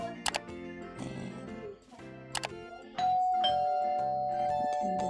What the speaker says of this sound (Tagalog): Lalagay tayo ng bell, ay doorbell pala. Sound effect.